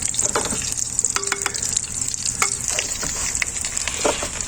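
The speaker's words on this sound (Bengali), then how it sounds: "আবার তেলে দশ মিনিট দিচ্ছি।" Food fries in hot oil in a pan, a continuous sizzle close by with clinks and scrapes of stirring scattered through.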